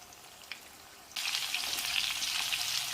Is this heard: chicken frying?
yes